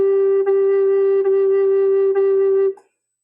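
A recorder holding one steady, pure note, re-tongued at regular intervals so that soft articulation clicks mark each restart without breaking the tone, before it stops.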